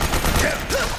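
A short, loud burst of automatic gunfire crackles in Metal Gear Solid 4, lasting about a second.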